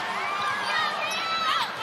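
A crowd roars and cheers in a college women's basketball arena during an ACC game, a sustained loud wall of voices with shrill whistling peaks.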